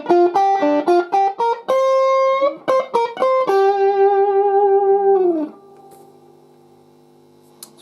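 Electric guitar picking out a riff through an effects unit, short stabbed notes ending on a long held chord that decays into a faint hum.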